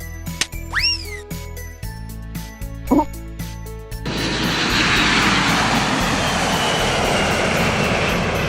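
Airplane engine in flight in a cartoon scene, starting after some brief cartoonish sound effects and settling into a steady, loud, broad roar for several seconds.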